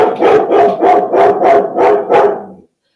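A large guard dog barks seven times in a steady rhythm, loud and close, each bark spaced about a third of a second apart.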